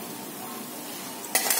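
Green chilli being stirred in a cooking pan while making dum aloo: a soft, steady background hiss, then a short burst of scraping and clinking near the end.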